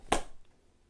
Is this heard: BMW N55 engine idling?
no